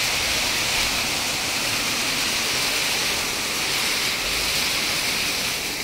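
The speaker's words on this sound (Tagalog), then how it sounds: "Sana lumakas pa yung ulan." Steady rain falls outdoors near a farm with goats and vegetable plots, a dense, even hiss with no pauses, fairly loud and continuous throughout.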